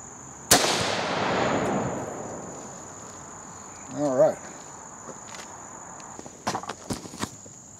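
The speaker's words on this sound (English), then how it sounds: "Okay, now we're going to shoot at the jug." A single close, loud rifle shot from a 30-30 Winchester firing Federal Power Shock ammunition at a jug outdoors: a sharp crack with a long fading tail, then faint insect chirping and a few small clicks.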